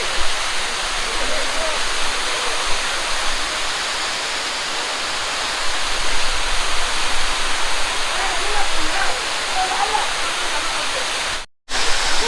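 Namma Falls in the Kolli Hills roars as fast-flowing water crashes down, a dense, steady, full-band rush heard close up and unbroken apart from a brief dropout near the end.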